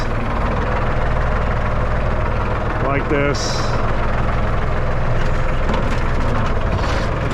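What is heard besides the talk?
Ford 9N tractor engine running in first gear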